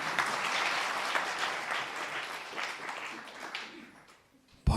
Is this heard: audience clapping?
yes